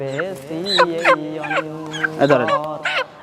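Fowl at a Bangladeshi Eid market give a run of clucking and gobbling calls, close and fairly loud, with tonal squawks repeating across the whole stretch.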